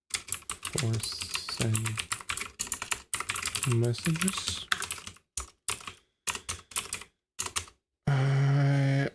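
Rapid typing on a computer keyboard with sticky Q, W and 1 keys, close and loud, in irregular bursts of clacks with pauses, while someone talks over parts of it.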